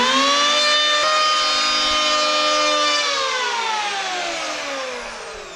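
Aldi electric planer shaving an old, gnarly piece of jarrah timber, a loud steady high-pitched whine with a rushing cut that holds, then slowly drops in pitch and fades slightly as the motor winds down.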